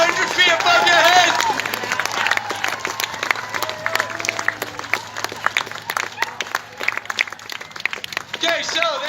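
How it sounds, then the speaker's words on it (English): A crowd at the Royal Norfolk Show claps and cheers as parachutists come in to land overhead, with dense, scattered applause following an announcer's voice over the PA; the clapping thins and swells again near the end. "Make sure you make some noise, clap some loud, and make some noise."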